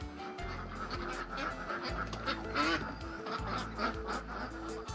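Vigova ducks, a meat breed from White Pekin and Aylesbury stock, quacking and flapping their wings on a pond, repeated raspy calls in a busy, overlapping chorus at moderate distance.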